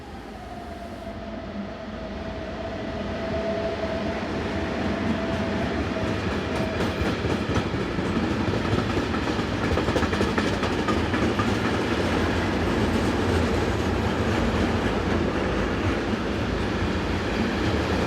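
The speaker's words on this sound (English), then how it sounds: "This is the 1856 from Niederbottingen to Oensingen co-op train headed by BLS class 465 number" BLS class 465 electric locomotive hauls a co-op passenger train past; the rolling rumble builds over a few seconds into a loud, steady roar with a brief faint squeal early on.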